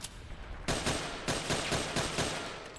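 Rapid video-game gunfire from a modified gun in Metal Gear Solid 4, a burst of fast repeated shots starting abruptly and running steadily for about two seconds, loud and close with no talking.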